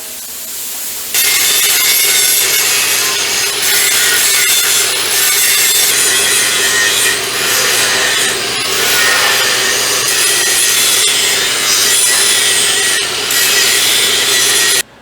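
Steel pieces for a homemade trailer being cut with a power tool, a loud, continuous abrasive grinding roar with a steady hum beneath it, running unbroken for most of the clip after an abrupt start.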